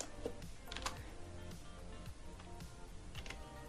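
Computer keyboard typing an address into a browser, soft scattered key clicks under a low background hum, faint and close.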